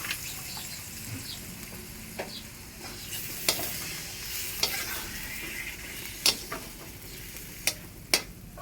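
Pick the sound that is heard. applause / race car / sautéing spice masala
sautéing spice masala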